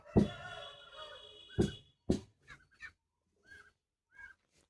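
A hen gives a few loud squawking clucks after laying an egg, followed by softer, spaced clucks fading off, heard close with no talking.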